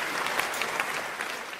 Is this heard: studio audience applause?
yes